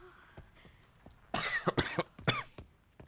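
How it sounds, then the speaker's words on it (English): A few harsh, close coughs in quick succession in the video game Resident Evil Requiem after a brief quiet moment, fairly loud and with no talking. "God, I'm really over this cough."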